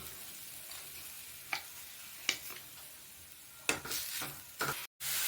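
A mung dal mixture with jaggery being stirred in a pan gives soft, close scrapes and clinks of a spoon at irregular intervals over a faint sizzle, quiet overall, with a brief dropout near the end.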